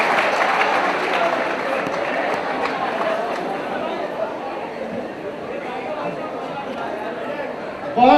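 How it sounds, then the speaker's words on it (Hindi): A kavi sammelan audience in Indore claps steadily and sustainedly, a dense wash of applause mixed with crowd chatter, with a voice cutting in at the very end. "एक बार तालियां मिलकर के बजा लो।"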